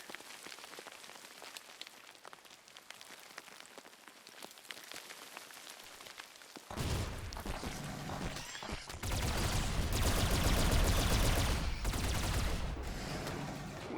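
Rapid crackling bursts of assault cannon gunfire in the video game RimWorld during a bug infestation fight, a dense patter that starts quietly and then swells loud and sustained.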